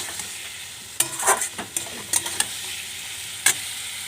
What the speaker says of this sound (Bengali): কষানো হচ্ছে।